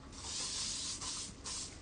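Spray bottle misting onto a standard poodle's coat during grooming, three close, soft hissing bursts of fine spray, the first longest, with no talk.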